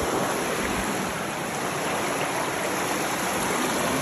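Creek water runs steadily through a gold sluice in Alabama country, a loud, even, close rushing and burbling flow with no talk over it.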